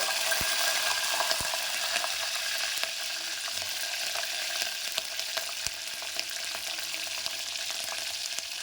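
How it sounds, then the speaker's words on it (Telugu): Mint leaves and green chillies fry in hot oil for goat paya soup, a loud, continuous close sizzle with occasional stirring clicks and pops. "కొంచెం పుదీనా పుదీనా కొంచెం ఫ్రై అయ్యాక పచ్చిమిర్చి"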